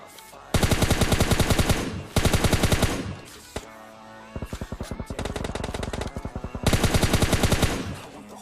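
Automatic weapons fire in PUBG Lite in long rapid bursts, loud and close, with short gaps and a single shot between volleys.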